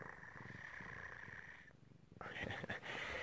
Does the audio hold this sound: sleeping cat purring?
yes